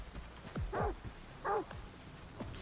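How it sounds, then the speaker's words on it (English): A dog in the STALKER video game barks and yelps several times, with two strong, close barks standing out over a low background rumble. "The other dog is coming too"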